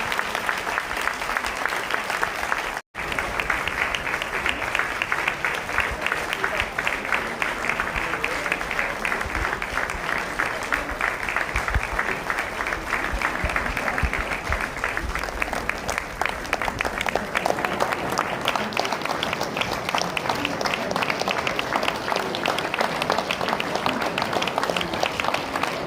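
Sustained audience applause fills a church ordination and elder retirement ceremony in a congregation hall, dense steady clapping from a large crowd continuing throughout with a brief break near the start.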